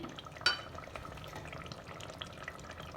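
Potatoes and soybeans fry in masala with a soft, continuous sizzle and faint stirring scrapes, plus one sharper clink of a utensil near the start.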